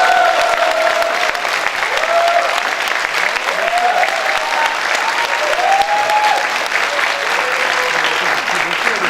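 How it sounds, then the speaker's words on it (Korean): Steady, loud applause from a large audience at a political party youth convention fills the whole stretch, sustained clapping without letup, with a voice faintly audible underneath. "박수가 끊이지 않는 것 같습니다"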